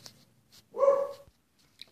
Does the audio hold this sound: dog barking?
yes